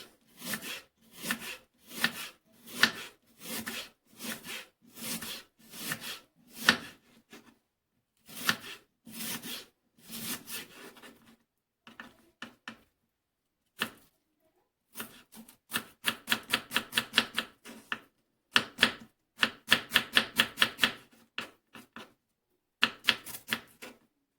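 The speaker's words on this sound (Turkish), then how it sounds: "İnce ince soğanlarımızı doğruyoruz." Knife thinly slicing onions on a cutting board for a Turkish onion salad: rapid, even rhythmic chops in bursts with brief pauses, close and crisp, alone.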